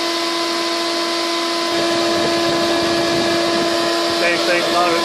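A Shop Vac and a floor fan run together in steady, loud mechanical drone while defrosting a freezer, constant hum throughout with a voice speaking over it.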